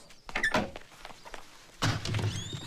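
A door being opened indoors in a Hindi comedy film scene: soft thunks and a latch at the start, then a louder knock of the door at about two seconds, with faint room noise and no speech over it.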